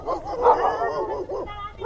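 A dog that was scared off makes short yipping, whimpering barks, mid-distance and fairly loud, mixed with voices talking over it.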